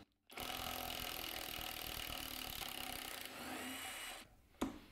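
A Skil 1/2 inch impact wrench running in reverse in nut busting mode gives a loud, continuous buzzing hammer rattle for about four seconds, then tapers off and stops with a final clunk.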